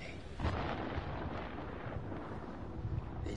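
Thunder from a storm at sea in the video game Man of Medan, a low continuous rumble rolling for several seconds at a steady, fairly muted level with no talk.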